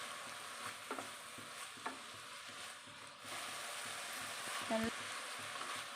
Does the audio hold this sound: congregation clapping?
no